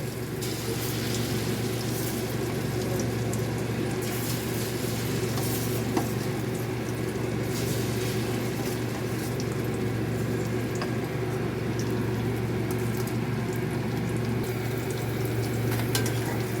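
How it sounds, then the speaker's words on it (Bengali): Batch of chicken pieces for crispy chicken browning in hot oil, giving a continuous, even sizzle and low bubbling drone close by, with a faint clink near the middle and no talking. "বাকি যেগুলো আছে এইভাবে একইভাবে লাল লাল করে ভেজে নেব।"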